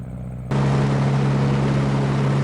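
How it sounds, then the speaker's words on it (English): A de Havilland DH-87B Hornet Moth biplane at max gross weight takes off, its engine jumping from a low idle to a steady, loud full-power drone with a strong low hum that holds close and constant. "the Hornet Moth gets off the ground very nicely"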